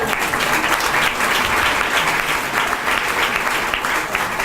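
An audience at an indoor presentation claps loudly and continuously, a dense, even wall of applause that holds steady throughout with no pause.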